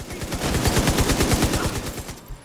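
Automatic gunfire in The Division 2 video game: a loud, rapid burst of evenly spaced shots rattling for about two seconds, close and continuous with no talk over it.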